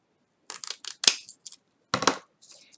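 Scissors snipping packaging paper for a small product box, a series of crisp cuts and rustles in short irregular bursts with silent gaps between, close and fairly quiet, no talking.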